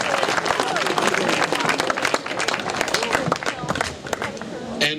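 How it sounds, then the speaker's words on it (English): An audience at welcome speeches for a 2012 hangi claps steadily, a dense patter of many hands that fades toward the end as voices talk over it. "So if we could just give them a clap,"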